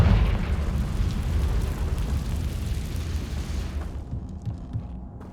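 A Confringo fire spell explodes in Hogwarts Legacy with a loud, rumbling burst that rolls on for several seconds and then fades into quieter crackling debris.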